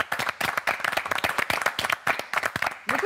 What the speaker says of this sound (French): Beaucoup d'applaudissements ce soir.